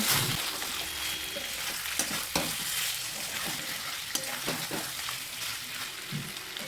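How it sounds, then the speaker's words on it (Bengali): Mutton and chopped tomato stirred in a pan for mutton curry, a steady sizzle under repeated scraping strokes of a spoon, close and continuous with no talk. "টমেটো দিয়ে দেওয়ার পর মটনের সাথে খুব ভালোভাবে মিশিয়ে নিয়েছি"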